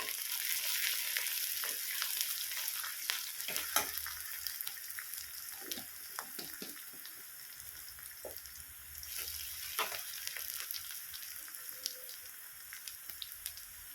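Cumin seeds fry with onion in hot oil for a Maggi noodle dish: a steady close sizzle with scattered sharp crackles and pops, with no talking.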